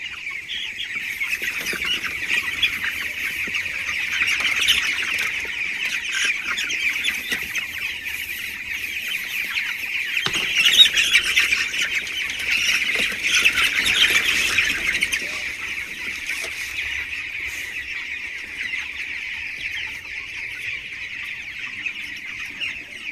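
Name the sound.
chickens clucking and squawking on a farm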